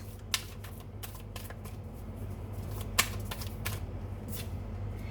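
Tarot cards being shuffled and drawn at close range, quick papery riffles and flicks with a couple of sharper snaps over a steady low hum.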